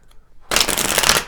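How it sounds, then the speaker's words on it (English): A deck of tarot cards is riffled and shuffled close by, a quick burst of crisp, papery flutter after a brief near-silence, lasting under a second. "Let's see what else we pull from the tarot cards."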